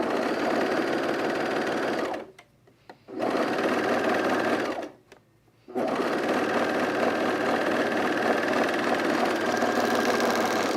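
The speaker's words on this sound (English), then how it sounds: "when you approach your serging here" A serger overlock sewing machine stitches a zip hoodie, whirring in loud continuous runs that stop twice for about a second each before resuming.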